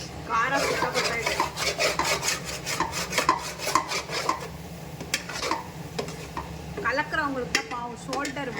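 A spoon stirs egg semiya in a pot, giving off repeated scraping and rubbing strokes over a faint sizzle, with voices talking intermittently.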